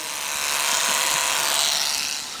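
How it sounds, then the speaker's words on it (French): Electric horse clippers buzz steadily while a horse is groomed, a continuous high, hissing motor drone that swells slightly and then eases, close and alone with no talk. "Associer le bruit de la tondeuse"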